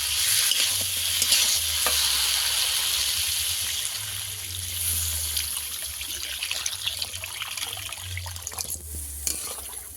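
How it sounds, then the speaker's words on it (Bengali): Water poured into a pan of frying potato and snakehead fish curry with brinjal, then stirred, making a loud close bubbling hiss with repeated scraping spoon strokes and a low rumble underneath, no voices. "কষাতে এবার জল দিয়ে দেবো।"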